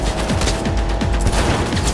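Rapid, loud gunfire from the video game Cyberpunk 2077, a dense fusillade of shots with repeated low booms running continuously through the whole stretch, close and unbroken.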